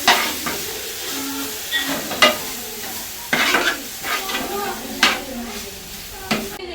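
Chicken pot mix stir-fried in a pan at a village tea shop, a steady sizzle broken by repeated sharp scrapes and clanks of a utensil against the metal, with faint voices in the background.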